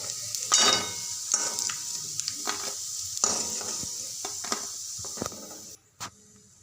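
Steady sizzling of dried bombil (Bombay duck) fish frying in oil, with intermittent scraping and stirring clicks on the pan; the sizzle drops off sharply near the end.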